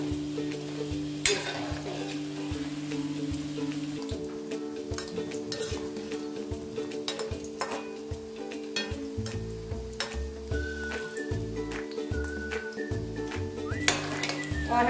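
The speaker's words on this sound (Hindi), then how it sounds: "हमें गुजिया को स्लो फ्लेम कर लेना है और आराम से इनको फ्राई करते रहना है" Gujiya frying in oil in a kadhai on a slow flame: a steady, close sizzle with frequent metallic clinks and scrapes of a spoon against the pan as they are turned.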